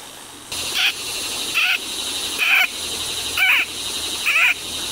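A person imitates a field frog call, repeating a short, high, squeaky croak five times at a steady pace over a constant hiss of outdoor ambience.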